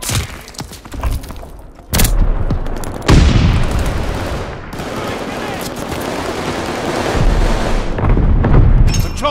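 Call of Duty Vanguard multiplayer battle with loud close gunfire, booming blasts and thuds, including a grenade explosion amid sustained shooting, with game voice callouts over the combat.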